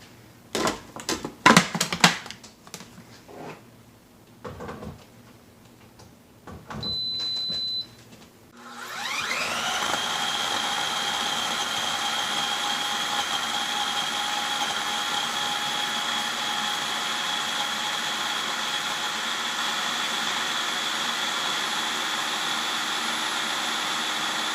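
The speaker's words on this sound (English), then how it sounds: "add some of these soap ribbons, soap flakes, back into your food processor, because we're going to pulse these down" A food processor grinds soap flakes and ribbons for homemade HE laundry detergent, preceded by a few short pulses and clatter, then settling into a loud, steady motor whine that runs continuously for the rest of the clip.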